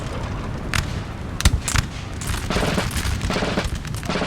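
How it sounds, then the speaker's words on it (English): Musket volley from grenadiers in the Napoleon Total War 3 video game, heard as several sharp crackling shots clustered around the middle of the battle ambience, followed by a steady rumble of distant gunfire. "Are they going to put a volley into the Poles?"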